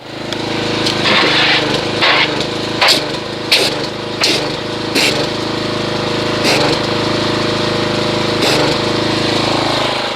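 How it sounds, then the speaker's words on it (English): A pressure washer runs loudly and steadily, spraying carnauba wash-and-wax foam onto a car, with its motor droning throughout and several sharp bursts and clicks from the spray gun, and no voices. "So I'm going to get the pressure washer and let's foam this and see how much foamage we get."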